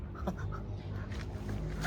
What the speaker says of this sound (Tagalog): Aso yun ah.